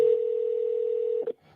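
A steady telephone dial tone sounds loud and unbroken after a call drops, then cuts off with a brief click near the end.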